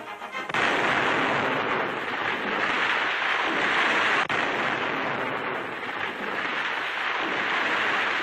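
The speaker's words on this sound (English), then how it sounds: "they're blasting a path through a wilderness never before conquered by man" Continuous roaring blasts of explosives clearing a wartime military highway through untouched jungle wilderness, dense and loud throughout with a brief dip partway, old newsreel recording.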